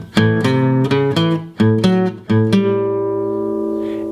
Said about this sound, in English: Section 1 will sound like this.